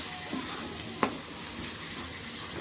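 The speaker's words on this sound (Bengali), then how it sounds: "এবার এটাকে ভালো করে আমি কষতে থাকবো" Vegetables with salt and turmeric sizzle steadily in a pan, a soft continuous frying hiss broken by a sharp scrape or two of a spoon stirring.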